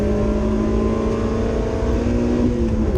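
Race car engine in a racing video game, droning steadily at high revs while closing on and overtaking a Mark III Mazda MX-5, loud and continuous with no talking.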